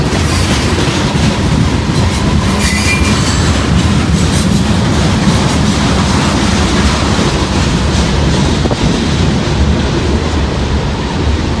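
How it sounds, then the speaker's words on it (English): A Norfolk Southern freight train rolls past close by, heading south, with a loud and constant rumble and clatter of wheels on rails that fills the whole stretch without a break. "there goes the Norfolk Southern south on the rat hole"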